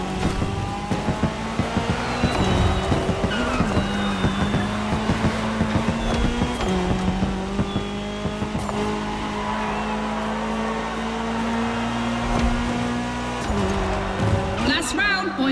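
Rally cars, including a Ford Puma Hybrid Rally 1, race in the video game The Crew Motorsport, engines revving and shifting gears with repeated tire squeals and skids, while a voice talks over the action.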